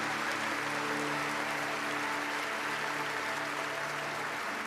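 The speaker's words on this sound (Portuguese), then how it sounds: "Aplauda o mais forte que você puder." A church congregation claps together at a sermon, a sustained and even roar of applause holding steady throughout without any voice over it.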